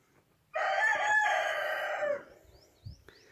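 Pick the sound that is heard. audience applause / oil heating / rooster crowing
rooster crowing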